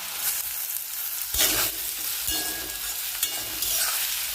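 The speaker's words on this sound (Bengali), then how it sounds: "আদা বাটা দিচ্ছি।" Ginger paste sizzles in hot oil in a pan, added after fried onion and garlic paste for a quick mutton curry, a steady close frying hiss with occasional stirring scrapes and no talking.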